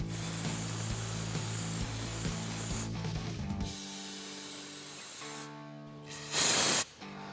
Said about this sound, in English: Now we're going to immediately spray everything off with our brake clean.